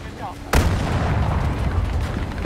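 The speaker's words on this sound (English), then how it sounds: "Wow, tank shells really do not do much damage." Tank shells fire and explode in the video game Battlefield 2042: a heavy blast lands suddenly partway through, and a dense, rumbling battle roar with scattered smaller bangs follows and keeps going.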